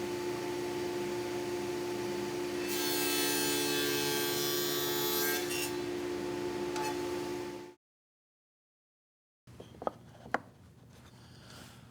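A router on a router table cuts a second dado in a flipped wooden workpiece with a steady, moderate whine and rasping cut, then falls silent before faint handling clicks.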